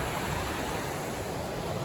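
Steady broadband rush of the South Holston River below a weir dam, continuous and fairly loud, with no voices over it.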